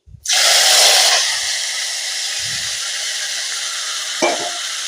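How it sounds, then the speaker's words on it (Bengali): Vegetables hit hot oil in a pan with a loud, bright sizzle that settles into a steady fry, a stirring clatter near the end, while cooking a river fish curry. "এখন সবজিটা ঢেলে দেব নাহলে তো লেগে ধরবে না তো এটা ঢেলে দিচ্ছি"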